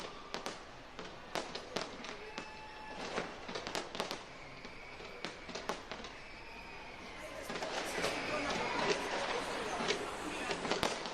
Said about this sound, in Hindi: तो देखिए किस तरीके से जमकर आतिशबाजी की जा रही है।